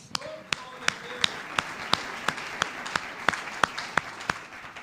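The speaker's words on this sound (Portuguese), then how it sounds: "Mais palmas ao Senhor, mais palmas." A church congregation claps in steady unison during a sermon, about a dozen sharp, evenly spaced claps in a regular beat, with a voice talking underneath.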